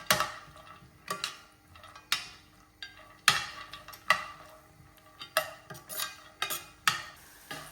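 Nuts fry in ghee for sheer khurma while a metal spoon stirs and scrapes the pan in steady, regular clinks, close and clear with no talk.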